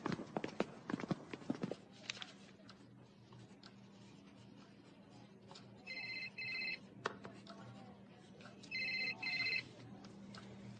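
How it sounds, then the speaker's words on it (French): A telephone rings in two bursts of a bright electronic double trill, in a room where people talk at first and then go quiet, with a faint steady hum beneath. "C'est le téléphone de qui?"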